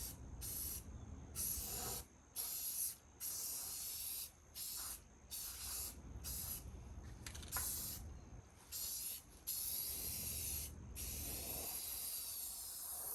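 Spray paint and primer hissing onto the stripped metal bumper of a 1966 International Harvester truck, close and loud, in repeated bursts of about a second each separated by short pauses, with no talking.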